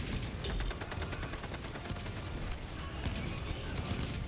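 Rapid gunfire in Helldivers 2, a steady stream of sharp cracks that repeats through the whole stretch over a dense layer of game noise, with a faint voice now and then.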